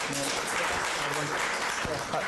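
A crowd applauds home health care providers steadily throughout, a dense wash of clapping with some voices mixed in beneath it.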